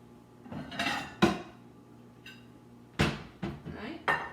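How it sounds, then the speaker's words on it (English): Dishes clattering as a serving dish is grabbed for microwave monkey bread, several sharp clinks and knocks of crockery and cutlery in quick succession, close and moderately loud. "So I'm going to grab a dish real quick."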